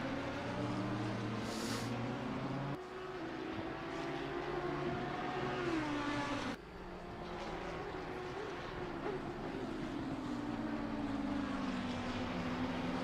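GT race cars at Oulton Park roar steadily at full throttle, engine notes climbing and shifting through gears as several cars accelerate in close company, loud and continuous with no voices.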